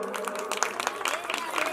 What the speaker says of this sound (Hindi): जरा जोरदार ताली और हो जाए